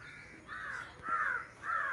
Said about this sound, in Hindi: कौवा काँव काँव करते हुए